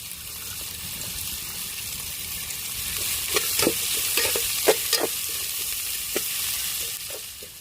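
Chopped big onions and garlic sizzle steadily in a pan for a rice and lentil dish, with a spatula scraping and stirring in scattered clicks that cluster midway, all close and with no one talking.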